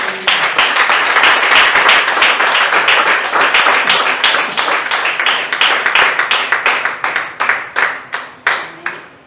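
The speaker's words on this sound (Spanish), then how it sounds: "De un aplauso al Señor, hermano" A church congregation applauds after a sermon, loud dense clapping that gradually thins into distinct, slower individual claps toward the end.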